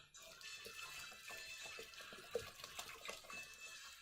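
The rest of a bottle of red wine is poured into a pot of beef bourguignon stew with bacon, a faint steady liquid pour and splash that carries on throughout.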